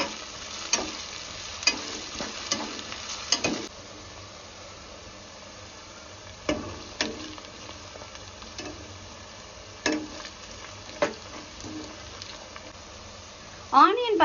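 Quarter kilo of sliced onions sizzles and fries in hot oil for veg biryani, with a steady hiss punctuated by occasional clinks and scrapes of stirring, close by.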